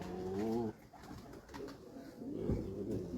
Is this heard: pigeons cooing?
yes